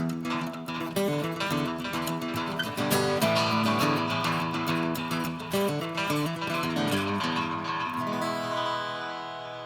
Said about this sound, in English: The next effect that we're going to look at is the echo, or the delay.